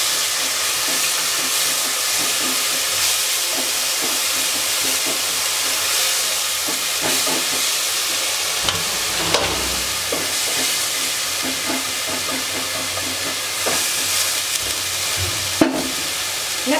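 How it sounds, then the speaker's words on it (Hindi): Onion and garlic paste sizzles in a hot pan while rajma gravy is made, a steady loud frying hiss with occasional stirring scrapes and pops. "तो अभी मैं इसमें ऐड कर दूंगी अनियन और गार्लिक का पेस्ट।"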